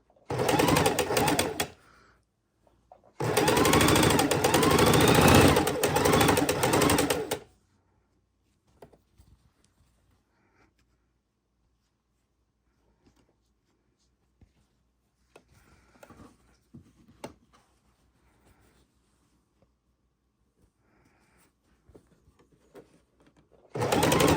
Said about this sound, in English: Putting them together, lining them up, and stitching them across.